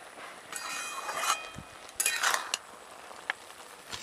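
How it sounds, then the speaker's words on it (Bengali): A spoon scrapes and clinks against a metal pot while cabbage and red lentil dal are stirred after the lid comes off, giving light intermittent metallic taps and rattles at close range without any speech. "ঢাকাটা খুলে নিয়ে একটু নাড়াচাড়া করে নিচ্ছি।"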